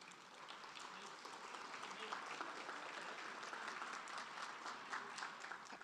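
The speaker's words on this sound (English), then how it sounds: "So please give them a round of applause." An audience at the opening of a San Antonio summit on renewing Brackenridge Park applauds steadily, the clapping sustained but fairly soft and distant.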